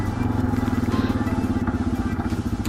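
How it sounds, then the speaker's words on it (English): A Yamaha TW200 trail bike fitted with a DG FMF hybrid exhaust idles with a steady, loud, pulsing thump close to the microphone, a low rhythmic putter throughout with light mechanical clatter on top. "I'm also testing out the exhaust with my DG FMF hybrid exhaust"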